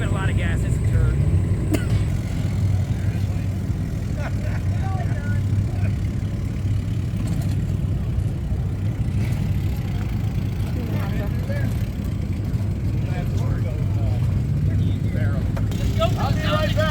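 A shortened street-legal VW Bus engine rumbles loudly nearby while it pulls away, its low, rough drone holding steady as people talk over it.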